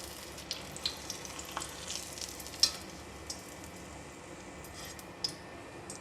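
Small shimeji mushrooms deep frying in hot oil, a soft, steady bubbling sizzle with a few sharp light clicks of utensils, faint and close.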